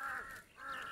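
Crows cawing in a rural area after a storm, two harsh drawn-out caws in quick succession, faint and somewhat distant.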